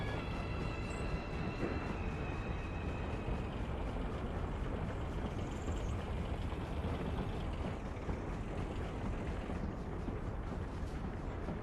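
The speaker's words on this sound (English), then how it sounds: "Heard a train." A train rolls past in a railway-building video game set in 1900, a steady, faint, low rumbling wash that holds evenly throughout with no voices.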